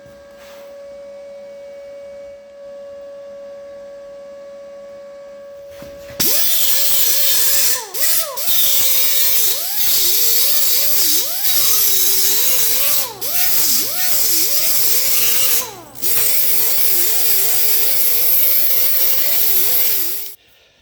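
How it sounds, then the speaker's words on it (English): Sanding and grinding on the metal door of a chopped 1949 Chevy Fleetline, a loud whining power tool that kicks in after a steady low hum, its pitch dipping and rising as it bites, with brief pauses near the end. "I'll get that all sanded there now."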